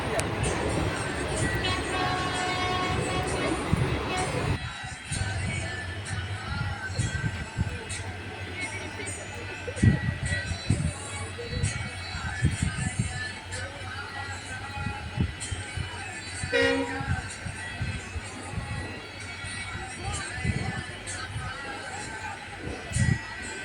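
Station ambience as a train stands at a platform on the Bardhaman to Rampurhat line, with rumbling rail noise, a brief horn toot and a chattering crowd throughout, while someone talks over it.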